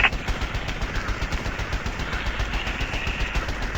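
Rapid, continuous machine gun fire from the rear turret of an Avro Lancaster bomber during a bombing run, a dense rattling burst lasting several seconds over steady engine drone.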